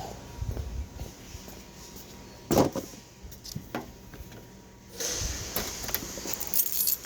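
Keys jangle as they are grabbed, with a bright metallic rattle at about two and a half seconds and scattered clinks around it, plus soft handling noises and a louder rustle toward the end.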